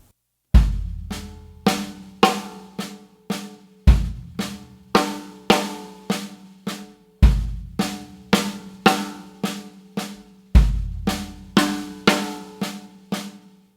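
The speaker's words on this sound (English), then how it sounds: "in this lesson we're going to be working on a drum fill that consists of 6 notes" A linear sixteenth-note triplet drum fill of kick, right, left, left played on a drum kit, each figure opening with a deep kick and running through sharp snare and tom hits in a steady repeating six-note pattern, clear and close with no talk.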